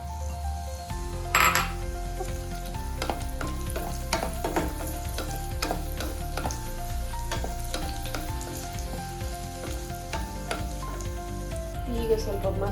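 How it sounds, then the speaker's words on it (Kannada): Garlic and red chilli fry in a pan for a tomato sambar and chicken fry, a steady close sizzle broken by stirring clinks and scrapes, with a brief louder clatter early on. "ಈಗ ಅದಕ್ಕೆ ರೆಡ್ ಚಿಲ್ಲಿ ಹಾಕ್ತಾ ಇದ್ದೇನೆ."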